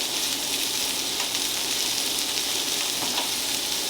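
Vegetables frying in a pan, giving a loud, dense, steady sizzle that continues unbroken and close up with no voices.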